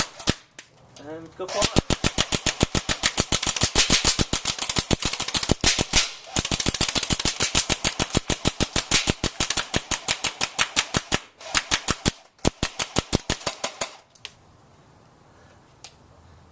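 Airsoft gun shooting at a cigarette, firing single shots in a long, fast, evenly spaced run of sharp snapping cracks close by, with a short pause midway and a voice speaking briefly at the start.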